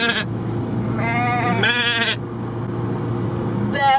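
A person imitates a sheep bleating, giving two wavering bleats in quick succession and a brief third one at the end, close and fairly loud over a low background rumble.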